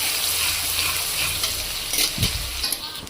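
Crushed garlic and dried red chilies frying in oil in a pan, a dense continuous sizzle with occasional stirring scrapes, close and loud.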